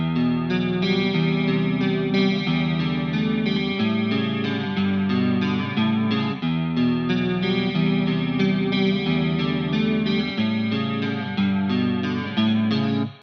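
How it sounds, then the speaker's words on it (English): Electric guitar playing a sustained chordal riff through a Marshall Valvestate 8100 amp, thick with shimmering chorus and reverb, steady and loud throughout. "Like, get a chorus, turn on some reverb"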